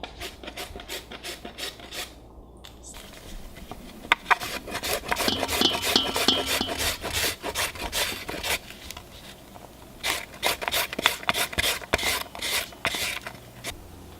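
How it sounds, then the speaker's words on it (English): Carrots shredded by hand on a grater for kimchi, with bursts of rapid rasping strokes and scraping that pause briefly, then resume in close, steady rhythmic runs. "we were shredding the carrots"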